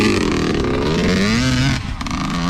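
A 125 RM dirt bike engine revs loud and close, its buzzing pitch climbing steadily, then dipping briefly near the end before picking back up.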